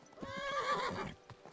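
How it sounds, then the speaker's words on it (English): Several horses neigh and whinny with clip-clopping hooves in Kingdom Come: Deliverance 2 near an enemy camp, one long whinny standing out over the muffled hoofbeats, fairly close and loud, with no talking. "Oh, they got a lot of horses."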